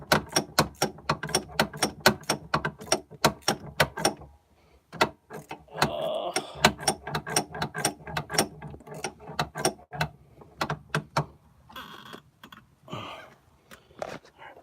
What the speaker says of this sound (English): I'm trying to get this last bolt to run down on the shifter